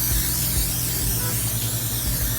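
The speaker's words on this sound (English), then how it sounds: "We're just going to spray it down with some Pam." Pam cooking spray hisses onto a clean cookie sheet for baking spring rolls, a loud, close, steady aerosol spray lasting a couple of seconds over faint background hum.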